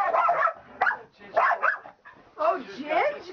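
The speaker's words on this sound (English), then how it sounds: "all the puppies going after one another." Several puppies bark, yip and whimper in short overlapping bursts while playing at midnight, fairly close, mixed with a person talking over them.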